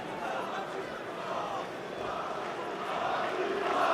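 Crowd noise at a professional lightweight boxing bout, a steady broad roar of cheering and shouting that swells slightly louder toward the end.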